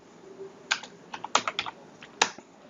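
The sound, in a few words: typing code on a computer keyboard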